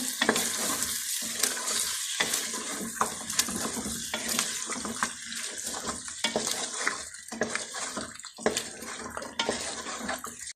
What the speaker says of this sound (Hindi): मैं चिकन को अभी तक भून रही हूँ अच्छी तरह